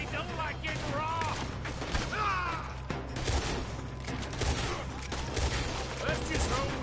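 Gunfight in Red Dead Redemption 2, with dense bursts of rapid gunfire and reports crackling continuously throughout, mixed with shouting voices and game music underneath.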